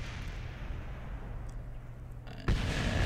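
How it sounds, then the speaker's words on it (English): In Kerbal Space Program, a giant rover that ran out of fuel explodes on landing. After a low, quiet rumble, a sudden loud burst of noise hits and keeps roaring to the end. "Big explosion. Big explosion. Because I ran out of fuel in that one."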